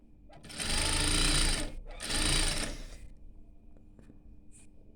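An electric sewing machine stitching cotton panties, two close, loud bursts of rapid whirring stitching separated by a brief pause, then quieter handling noises and a faint click.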